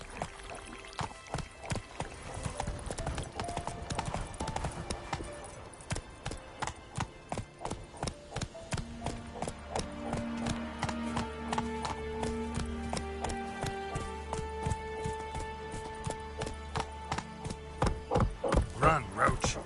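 A horse gallops in The Witcher 3 video game, steady rhythmic hoofbeats thudding throughout while game music with sustained tones plays underneath, growing louder near the end.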